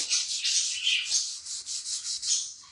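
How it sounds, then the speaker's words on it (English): Steady rhythmic rubbing close up as wax is applied to a freshly painted surface, a soft hissing swish repeated back and forth in even strokes, with no voices. "So since it's freshly painted, I'm going to go ahead and wax it"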